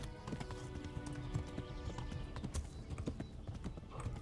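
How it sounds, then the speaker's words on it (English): Horse hooves clip-clop steadily in Kingdom Come: Deliverance, a dense, continuous run of close hoofbeats with a faint whinny behind it and music underneath. "Oh, get back on your horse, Henry."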